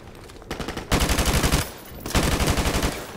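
Rapid automatic gunfire from Call of Duty: Modern Warfare Remastered comes in two loud bursts of fast, evenly spaced shots, each lasting under a second and separated by short pauses.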